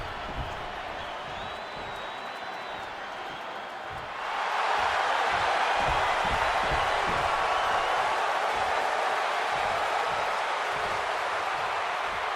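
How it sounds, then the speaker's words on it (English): Arena crowd in the WWE 2K26 wrestling game, Seth Rollins versus CM Punk, swelling suddenly from a steady murmur into a loud, sustained roar of cheering that continues unbroken to the end. "And this capacity crowd just exploded."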